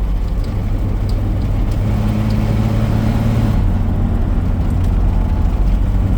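A 1951 Chevrolet panel truck drives down the road, its engine and road rumble a steady, loud low drone from inside the cab with no talking.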